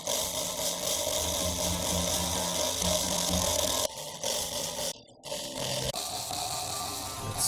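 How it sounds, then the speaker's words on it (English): Processed string hits from the Soundpaint EverWave instrument, a dense grainy, gritty granular texture sustained loudly, then broken by a few abrupt dropouts and stuttering cuts near the end. "Then we have hits on strings. We'll check out the processed part since it's a little more exciting"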